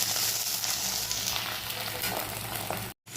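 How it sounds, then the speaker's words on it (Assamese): Boiled potatoes and green chili frying in a pan, giving a steady, loud, close sizzle throughout before a brief cut at the end. "অকণমান ভাজি ল'লোঁ মই"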